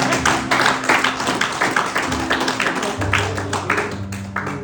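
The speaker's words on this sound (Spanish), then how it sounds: "Den un aplauso al Señor, que se están durmiendo." A church congregation at a sermon applauds, producing a loud, steady wash of many hands clapping that fills the room from start to finish.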